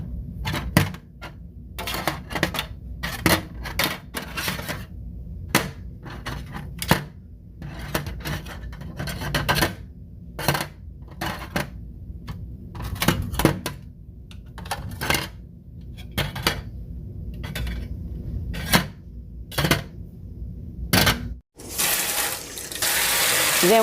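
Stacked garden planters pulled apart one by one outdoors, a string of sharp clattering knocks and scrapes at irregular intervals over a steady background, close by with no talking, ending in a louder rushing noise.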